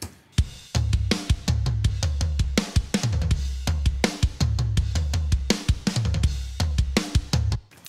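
A drum kit plays a driving pattern of punchy kicks and snares, processed with Logic Vintage EQ and Vintage VCA compression at a 4-to-1 ratio with slowish attack and medium release, loud and alone.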